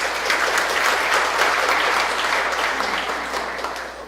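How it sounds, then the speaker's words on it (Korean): An audience at a CEO business forum bursts into steady, full applause that rolls on evenly and tapers slightly at the end, clapping alone with no voices over it. "큰 박수 한번 부탁드리겠습니다"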